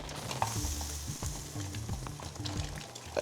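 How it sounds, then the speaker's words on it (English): Carrots and potatoes are put into boiling water in a pot, a close, bubbling, sizzling burble with brief splashes and clinks of the pot over a few seconds. "And now we'll get our carrots and potatoes and put them in the boiling water."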